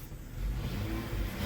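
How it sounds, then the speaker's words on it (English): A car engine revs in gear while a failing transmission leaves the car not moving. A close, low mid-pitched drone rises and holds steady, with no voices. "I'm stepping on the gas in gear. No move, guys."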